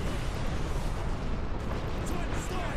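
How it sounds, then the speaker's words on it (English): Heavy incoming gunfire and artillery-like blasts roar continuously in the Warhammer 40K: Space Marine video game, a dense, loud barrage filling the whole stretch with a voice mixed under it. "Incoming fire."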